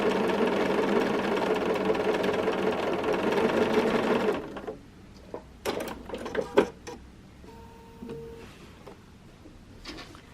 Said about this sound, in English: And now you can just sew over the line,